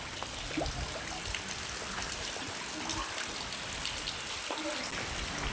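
Steady rain pours outside onto a flooded street during the monsoon, a dense, even hiss of falling water with faint drips, moderately distant and continuous throughout.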